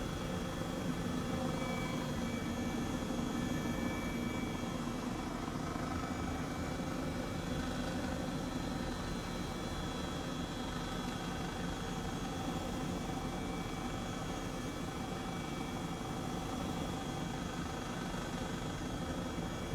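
A helicopter engine in a flight simulator game drones on as a steady, moderately faint whine and hum, unchanging and alone throughout.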